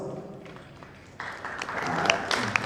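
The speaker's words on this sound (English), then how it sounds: "Wow, let's clap for them as well." Event crowd at a StunnerBiz gathering begins clapping for the named guests; quieter, sparser claps at first, then swelling into louder, livelier applause with a few sharp individual claps and cheers.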